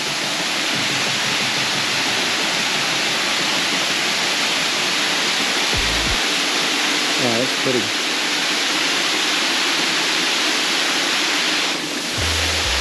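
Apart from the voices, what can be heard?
waterfall roaring, El Limón waterfall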